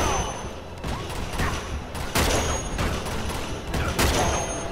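Rapid gunfire from the shooter Uncharted 2: Among Thieves fills a chaotic firefight in a tropical paradise setting, with loud, irregularly spaced shots and bursts cracking over a constant rumble of combat noise.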